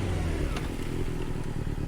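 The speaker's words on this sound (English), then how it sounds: "Hear that engine idle" A BMW motorcycle engine idles steadily and close by, with a low, even throb that runs on without pause through the short stretch.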